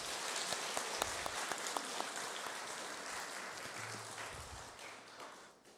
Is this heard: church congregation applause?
yes